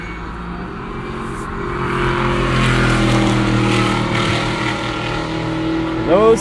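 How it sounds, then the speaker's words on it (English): Engines drone and rise in pitch like race cars running on a distant track, a continuous whining roar that swells and fades, with a brief nearer sound at the end. "Those sound like race cars running today."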